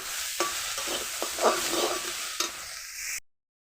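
Shrimp sizzling and frying in a pan while being stirred, a steady close hiss with a few soft scrapes of the spoon, stopping abruptly near the end.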